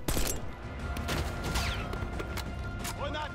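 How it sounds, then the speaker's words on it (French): Gunfire in Call of Duty Black Ops bursts out in a dense volley of rapid shots, loud and continuous through the short moment, mixed with game noise and a faint voice. "Pourquoi je tire sur mon pote?"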